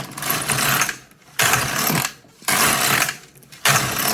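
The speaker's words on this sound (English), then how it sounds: "This is the most simple machine knitting you can do." Domestic knitting machine carriage pushed back and forth across the needle bed to knit rows, a loud whirring rasp in sweeps of about a second, broken by brief pauses at each end of the row.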